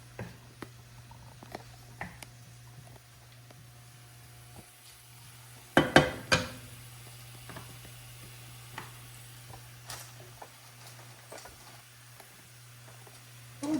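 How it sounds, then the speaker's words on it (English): Quiet, steady sizzling of pine nuts frying in an oiled skillet, with a faint hum underneath and a brief clatter of stirring midway. "So we hear this start to sizzle."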